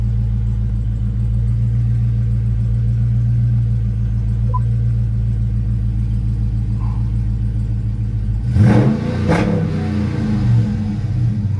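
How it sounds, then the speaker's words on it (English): A 2020 Dodge Charger Scat Pack 392 engine idles with a low steady rumble, then revs sharply twice near the end in quick bursts. "a quick rev."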